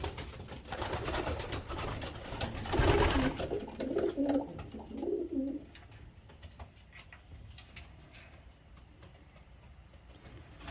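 Pigeons coo in an aviary, giving a few soft, low, rolling calls in the first half over a rushing background noise before the sound fades to a quieter hiss.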